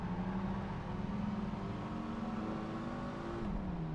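A Viper race car engine hums at a steady high pitch in Project Gotham Racing 2, holding a constant drone that dips briefly near the end, with no speech.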